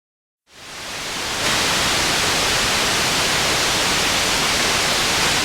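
A Sequential Prophet synthesizer noise hiss fades in quickly, then holds as a steady, loud, broadband rush without pause, no voices.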